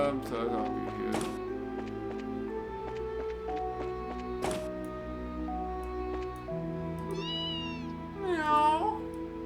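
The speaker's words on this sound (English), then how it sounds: "Meow." Cat meowing in the video game Trails in the Sky FC, two short rising meows near the end over soft game music, with a person talking.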